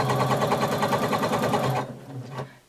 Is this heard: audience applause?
no